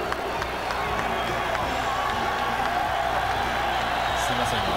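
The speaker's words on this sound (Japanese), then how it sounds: "ブーイングも聞かれます。" An arena crowd at a WBC women's lightweight boxing title bout between Christy Martin and her opponent gives a steady roar of booing and jeering, heard at a distance under ongoing commentary.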